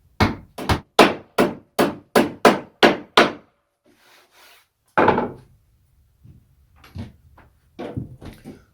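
About ten sharp hammer blows drive nails into pallet wood in a fast, even run, then a pause, one more hit and a few softer knocks.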